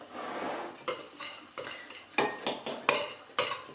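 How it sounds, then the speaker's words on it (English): Utensils clatter against a bowl as chopped apple pieces are stirred, giving a series of about eight sharp, close clinks and scrapes in an uneven rhythm, with no voices. "Give it a stir"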